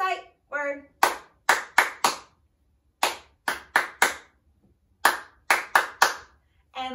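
Children clap in short bursts of four crisp claps, repeated several times with pauses between, close and loud, while a circle-time teacher leads; a few spoken or sung syllables open the sequence.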